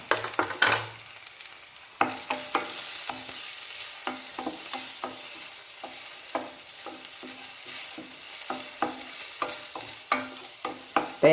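Ingredients for upma sauté in a pan with a light coat of oil, a continuous soft sizzle broken by regular spoon-stirring scrapes and taps, close and alone without speech.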